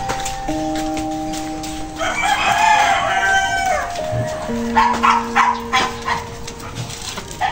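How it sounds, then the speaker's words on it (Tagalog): Several dogs bark outdoors in the Philippines as a rooster crows and hens cluck nearby. The barking comes in uneven bursts at mid distance, layered with the fowl calls, and no one speaks. "ang mga aso ay talaga namang ako ay tinatahulan"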